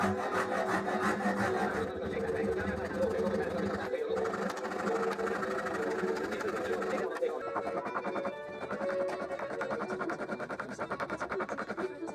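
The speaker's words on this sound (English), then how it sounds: "Then I used a rasp to start rounding over the neck." Steady rough scraping of a rasp rounding over a wooden ukulele neck, continuous strokes running close and fairly loud, with a constant machine-like hum beneath.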